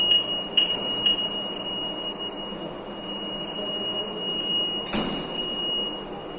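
Fire alarm on an Omega MCP push-type manual call point panel, a steady high electronic tone sounding continuously with a few clicks and a brief burst near the end, no talking.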